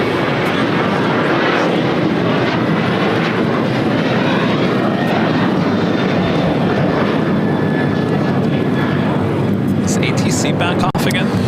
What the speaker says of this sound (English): That was American Airlines 2668 taking off to Nashville on a 737-800.